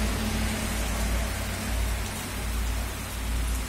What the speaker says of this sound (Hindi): हम लोग का इधर बारिश भी हो रहा